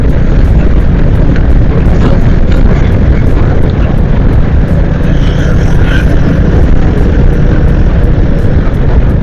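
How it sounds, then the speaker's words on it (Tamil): Strong wind roars steadily over the microphone while riding a Royal Enfield Meteor 350 motorcycle on the road to Mahabalipuram, a loud constant buffeting rumble with the engine buried beneath it. "செம்ம காற்று அடிக்குது."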